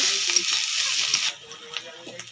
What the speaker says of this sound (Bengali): আর এর মধ্যে আমি কিছু তেল দিয়ে দিব তো এর মধ্যে দিয়ে দেব ওই বাটা মশলাগুলো দিয়ে দেব এটাকে আমি ভালো করে নাড়িয়ে নেব